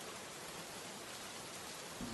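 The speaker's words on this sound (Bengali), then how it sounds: "কি যে বৃষ্টি শুরু হলো!" Steady rain falls in a continuous, even hiss with no pauses, fairly faint and heard alone without any voices.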